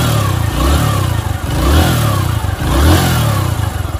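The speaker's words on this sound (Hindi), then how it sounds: "तो हम आपको इसको स्टार्ट करके दिखाते हैं कि एक्सीलेटर काम कर रहा है कि नहीं" A TVS Sport motorcycle engine, fitted with a replacement accelerator cable, is revved three times in a steady rhythm, each rev rising and falling back to a close, loud idle.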